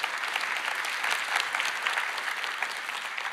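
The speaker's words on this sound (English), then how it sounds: "A round of applause to our creator team for building this amazing product." Audience applause at a tech keynote, a dense, even wash of many hands clapping at close range that holds steady for a few seconds.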